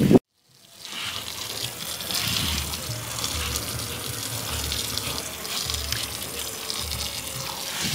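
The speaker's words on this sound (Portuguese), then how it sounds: "Que aí já enxago e a água já vai escorrendo" Water runs and splashes steadily off a soaked pile rug being rinsed outdoors, a continuous broadband gushing flow heard close and fairly loud for the whole stretch after a brief silent start.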